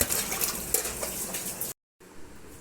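Black jamun fruit being washed in water, with splashing and sloshing that stops abruptly into a brief silence before quieter watery movement resumes nearby.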